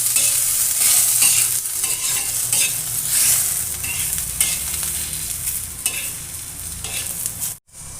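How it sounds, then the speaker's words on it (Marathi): Chopped onion fries in hot oil for a mutton curry, a loud, close, continuous sizzle with occasional stirring scrapes, ending in a brief pause. "आता त्यानंतर टाकायचं आहे तेल कांदा थोडासा छान परतून घ्यायचा"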